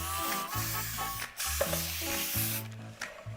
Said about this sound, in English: Now you want to spray the sides with some cooking spray.